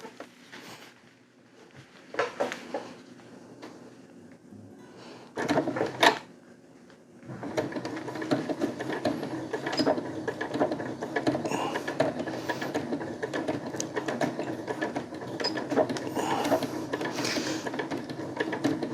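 A sewing machine runs a steady stitching pattern on webbing for a DIY hammock, starting after a few short bursts and then droning continuously and fairly loud for about twelve seconds, with a whirring mechanical patter throughout.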